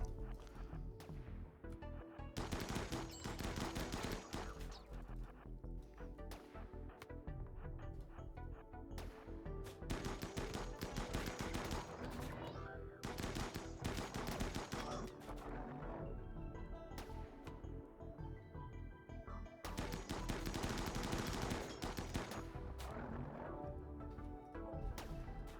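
Heavy automatic gunfire from a mech boss battle in RimWorld Biotech, dense rapid bursts in several long volleys separated by brief lulls, loud and continuous throughout.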